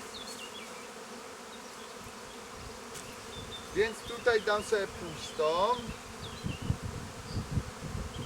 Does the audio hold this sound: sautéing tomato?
no